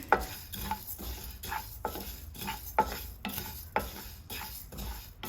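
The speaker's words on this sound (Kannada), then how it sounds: "ಇಷ್ಟನ್ನು ಒಳ್ಳೆ ಘಮ ಬರೋ ತನಕ ಡ್ರೈ ರೋಸ್ಟ್ ಮಾಡಿಕೊಳ್ಳಿ." Cardamom, coriander, cumin, mustard and fenugreek seeds dry roasting in a pan, stirred with a utensil in repeated scraping strokes roughly every second, with a faint sizzle underneath and no voices.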